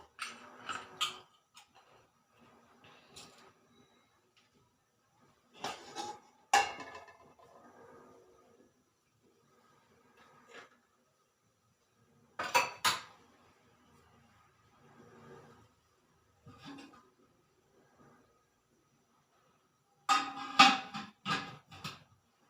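Salt being stirred into thick uthappam batter in a bowl, intermittent scraping and wet clicking bursts separated by quiet gaps, close and fairly soft.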